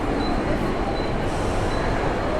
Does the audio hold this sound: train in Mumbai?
yes